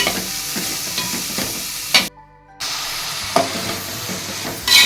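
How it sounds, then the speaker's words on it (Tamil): Chopped onions sautéing in a pan for vada curry, a steady broadband sizzle with spatula scrapes and stirring clatters, cut by a brief silent gap near the middle before the frying resumes. "வெங்காயம் கட் பண்ணி வச்சுருக்கேன் அதையும் சேர்த்துக்கேன் வெங்காயம் கொஞ்சம் வதங்கட்டும்"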